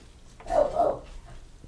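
A pet dog named Jonah gives a short pair of soft, muffled barks or whines indoors, faint and somewhat distant, under quiet room noise.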